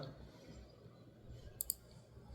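Two quick, faint mouse clicks sound close together while a WordPress page is edited with Elementor, over a quiet room background.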